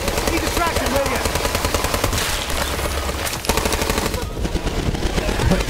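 Rapid, continuous automatic gunfire in Borderlands 3 rattles loud and close, with a heavier blast partway through that fits a grenade explosion, and the firing keeps going afterward.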